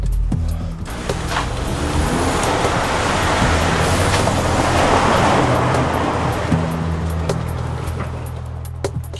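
A car is driven hard, and a loud, continuous roar of engine and road noise fills the whole stretch close up, swelling slightly in the middle with no clear speech.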